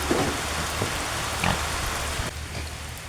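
Steady rain falls on a rural farm beside a newly built pen for weaned piglets, a constant broadband hiss with a few brief louder splashes and faint animal grunts, easing slightly near the end.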